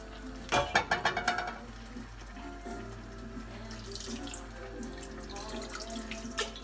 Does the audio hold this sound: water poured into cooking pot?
yes